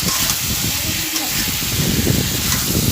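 A spatula stirs fried ridge gourd and potatoes in a hot pan, with a constant hissing sizzle and faint scraping and shuffling underneath, steady and fairly loud throughout.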